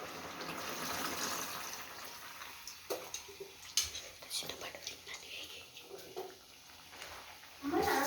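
Soaked tamarind juice is poured into a pot of cooked bottle gourd curry, making a soft, close liquid gush and splash followed by scattered light clinks and taps.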